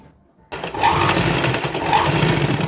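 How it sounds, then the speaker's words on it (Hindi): A sewing machine starts up after a brief quiet and runs steadily, stitching the side seam of a little girl's designer outfit, a loud continuous whirring buzz up close. "हम साइड में ऐसे सिलाई लगाएंगे।"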